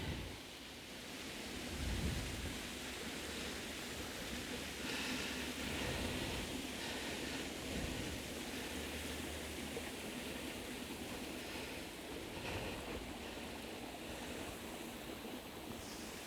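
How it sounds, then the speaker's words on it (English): A running waterfall on a burn gives a constant broad rushing roar, steady and fairly close, with faint swells and no talking. "I'm down at the waterfall, it's running."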